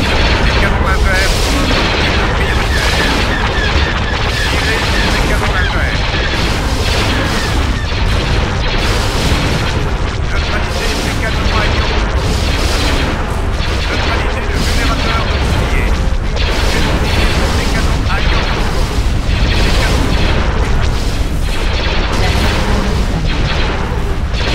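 Laser cannon fire and explosions in the video game Star Wars: Empire at War. Loud, continuous battle noise with rapid repeated blasts and booms layered over each other, with a voice speaking in the mix.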